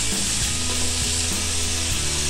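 Chicken sizzles and fries steadily in a pan while being cooked until it changes color, a loud continuous crackling hiss with occasional scraping stirs and no talking.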